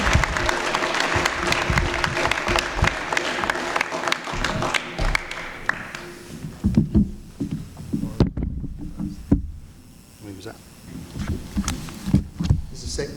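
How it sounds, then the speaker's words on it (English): Loud audience applause fills a board of supervisors meeting held at a high school, steady clapping for about six seconds before thinning into scattered claps and room murmur. "Give him a round of applause."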